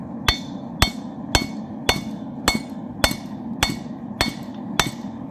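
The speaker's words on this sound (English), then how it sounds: "I can forge the metal around to make it work" A blacksmith's hammer strikes hot metal while forging a railroad zombie axe, nine sharp ringing blows at a steady rhythm about half a second apart, close and clear with no talk.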